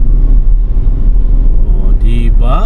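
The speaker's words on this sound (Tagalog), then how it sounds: "more traffic ang Quezon" Traffic on Quezon Avenue heard from inside a vehicle: a low, steady engine rumble with faint passing road noise, and a brief voice near the end.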